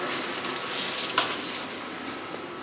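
Food sizzles steadily in a pan in a home kitchen, a dense continuous hiss with one small clink partway through, heard close and without speech.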